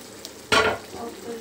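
Dal tipped into a hot pan bursts into a sharp sizzle and a quick stir, then settles into a quieter frying crackle, heard up close.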